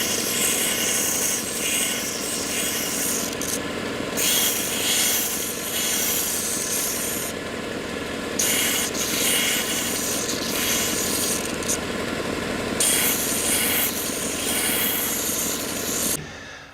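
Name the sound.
sander shaping wooden guitar bracing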